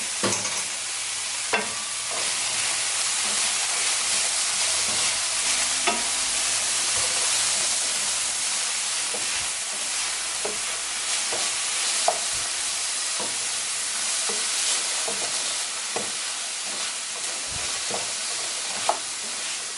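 Wild rice stir-fries in a pan, a steady close sizzle and hiss lasting throughout, with scattered sharp clicks and scrapes of a spoon stirring the grains and no speech.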